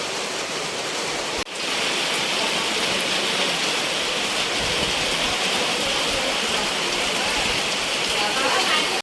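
Heavy monsoon rain pours down in Konkan as a dense, steady hiss, with a brief dip near the start before the downpour carries on unbroken.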